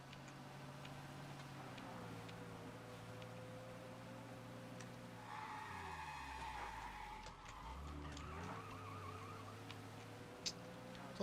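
A car drives in Mafia Definitive Edition, its steady engine drone shifting pitch as it slows and picks up speed again, with faint ticking over the top and no talk.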